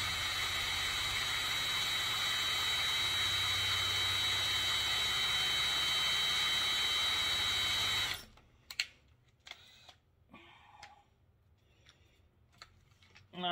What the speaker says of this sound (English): We'll drill this out with a number 50 bit.